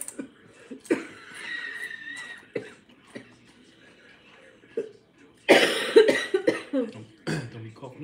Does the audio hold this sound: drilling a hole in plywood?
no